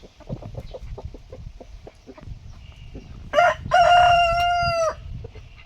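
Chickens cluck in a backyard coop in autumn, scattered short clucks followed by a loud, close rooster crow held for over a second.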